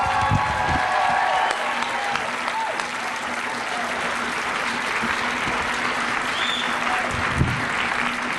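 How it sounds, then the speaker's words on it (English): An audience applauds for a comedian at a live stand-up show, with steady, dense clapping that continues throughout and sparse cheers, a few brief voices and whoops rising above it. "Please put your hands together, sound like 2 million people, for Mr. Jim Gaffney"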